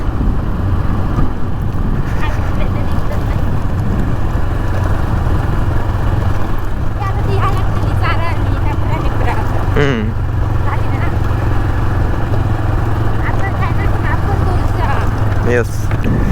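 A motorcycle rides along a road with a steady engine drone under heavy wind buffeting, and a voice comes through faintly at moments.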